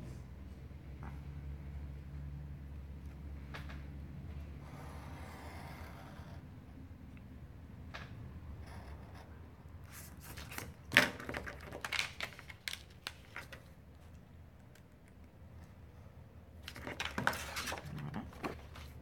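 Paper being cut with scissors or a blade while making a baby boy's photo album, quiet crisp snips and clicks in scattered bursts over a low room hum.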